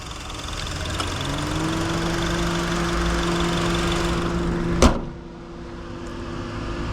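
A 2010 Honda CR-V's 2.4 liter K24 engine idles steadily nearby with a low, even hum, broken near the end by a single sharp thud as the hood shuts.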